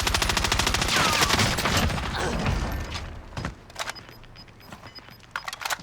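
Sustained automatic fire from an XM4 rifle in Call of Duty: Warzone rattles loud and close for about three seconds. Sparser single shots and mechanical clicks follow in a quieter stretch.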